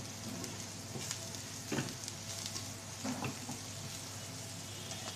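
Fish pieces frying in oil in a home kitchen, with a little turmeric being stirred in; a steady close sizzle runs throughout, broken by a few brief scraping stir sounds.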